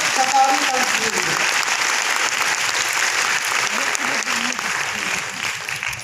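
An audience claps loudly and steadily for several seconds at a product presentation, a dense, even applause that fades slightly toward the end.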